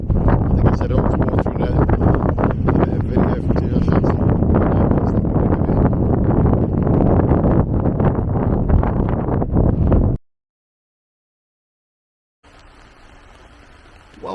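Strong wind buffets the microphone above Lake Windermere in a loud, continuous roar. It cuts to silence partway through, then returns more softly.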